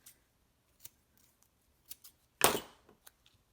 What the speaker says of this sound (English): So I'm going to pull in my tear and tape